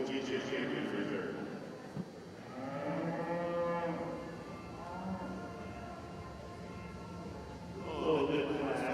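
Black Hereford cattle moo repeatedly at an indoor cattle show, several drawn-out lowing calls rising and falling, mixed with a steady crowd murmur and a voice talking over the arena sound system.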